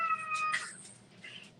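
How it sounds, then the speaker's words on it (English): A house cat meows loudly nearby during an indoor crafting session, one drawn-out wailing call followed by a softer second meow, with no speech over it. "can you guys hear my cat?"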